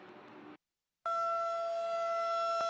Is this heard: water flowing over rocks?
no